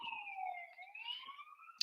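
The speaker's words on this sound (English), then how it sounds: "oh, I hear the sirens." A siren wails outdoors, its pitch sliding down and then back up in one faint, distant sweep, alone with no talk.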